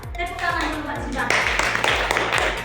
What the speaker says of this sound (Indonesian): Tepuk tangan dulu Mbak Sidang.